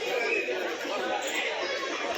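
Crowd of devotees waiting in the queue at the Kaal Bhairav temple in Ujjain, a dense, steady murmur of many overlapping voices, fairly close and continuous throughout.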